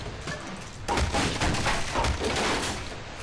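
Rapid gunfire and booming explosions from the video game Half-Life erupt in dense, overlapping bursts. The volume jumps sharply after a brief quieter opening, then sustains chaotic combat noise.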